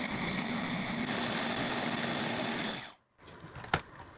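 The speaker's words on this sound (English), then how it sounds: "Add fresh garlic and blend them together." A food processor blending chili peppers with fresh garlic and a little liquid for pozole rojo paste gives a loud, steady motor whir with grinding for about three seconds, then cuts off abruptly, followed by a faint clatter.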